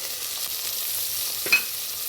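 Vegetables such as green peas fry in hot oil with ginger and garlic for a vegetable biryani, a steady, close hiss of sizzling with a faint clink of stirring partway through.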